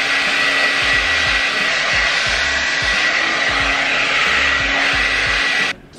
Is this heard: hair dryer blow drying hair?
yes